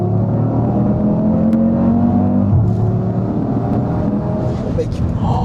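An Audi RS3 engine pulls hard while driving, a loud steady in-cabin drone with rising harmonic whine, a shift-like dip midway, and people talking over it.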